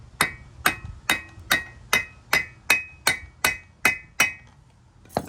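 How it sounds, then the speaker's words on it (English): A hammer strikes the metal cylinder of a 1980 Yamaha Champ 49cc scooter engine about a dozen times in a steady rhythm, each blow ringing briefly with a bright metallic tone. "I figured I'd just try and tap it with a hammer"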